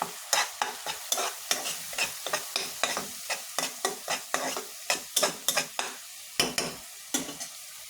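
Spices for a katla fish curry, including chili powder and cumin paste, are stirred in a frying pan, with about twenty rhythmic scraping strokes over a soft sizzle, close and without talk.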